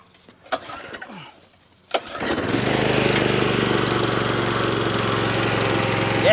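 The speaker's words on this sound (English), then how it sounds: "You always want to make sure your power washer is primed and the air is out of it before you try to start it." A power washer's engine is started for a deck cleaning job: a few clicks and pulls, then the motor catches and settles into a loud, steady close-up drone that runs to the end.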